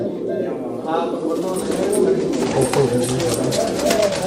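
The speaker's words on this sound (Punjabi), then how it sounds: "ਕਬੂਤਰੀ ਚਿੱਟੀ ਅੱਖ ਦੀ ਹੈ ਜੀ ਤੇ ਕਬੂਤਰ ਹੈ ਪੀਲੀ ਅੱਖ ਦਾ" Red pigeons kept as a mated pair coo in soft, rolling bursts close by, with a voice speaking over the birds throughout.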